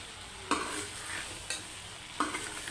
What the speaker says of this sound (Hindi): अब इसमें चम्मच हिलाकर अच्छे से प्याज में भिंडियों को मिक्स कर लें